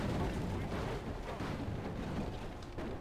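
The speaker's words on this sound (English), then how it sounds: "they're breaking down the wall, not the gate" Siege attackers batter down a castle wall during a Total War battle, a dense, continuous roar of booming impacts and crackling gunfire-like bursts with a voice talking over it.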